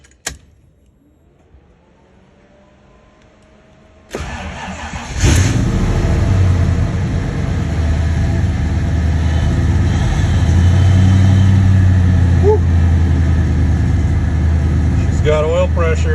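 A 1932 Ford pickup with a 5.0 engine cranks after a quiet moment, catches with a loud burst and settles into a rough, steady idle with a few blips of revving, close to the microphone.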